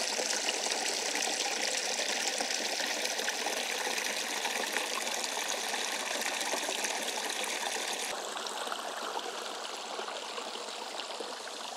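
Water rushes steadily through three poly pipes of a small mountain hydroelectric setup, a dense continuous gushing flow heard close and alone, with a slight change in tone partway through.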